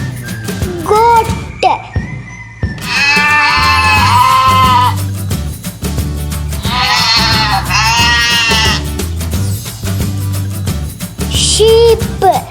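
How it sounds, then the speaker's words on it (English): A goat bleats in loud, wavering cries, several calls spread across the stretch, over a constant low musical bed. "goat,"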